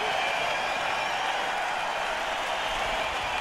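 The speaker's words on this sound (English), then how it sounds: "Wow, the crowd's loud" A live concert crowd roars on a recording, a steady wash of cheering and applause, distant and continuous, with no talking over it.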